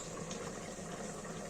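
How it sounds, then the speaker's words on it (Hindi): Chopped onion goes into hot oil in a pan while making malai chicken, a dense, steady sizzle that fills the short moment without a break. "ये तेल गरम हो गया, इसमें डालेंगे प्याज।"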